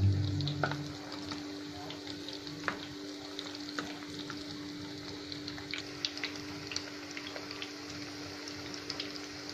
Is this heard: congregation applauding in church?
no